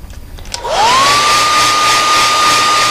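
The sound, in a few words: hair dryer heat-setting paint on airbrushed frog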